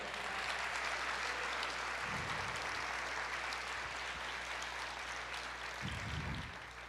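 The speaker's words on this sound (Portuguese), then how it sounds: "Glória a Deus, aplauda o Senhor." A church congregation claps in a faint, distant, continuous patter, with a low hum underneath and a few muffled thumps.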